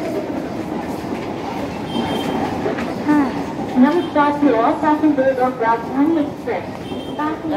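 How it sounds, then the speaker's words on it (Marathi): A train rumbles in close by with a steady rolling noise, while several voices chatter loudly over it on a busy station platform at Borivali. "ट्रेन आली आहे ट्रेन आली"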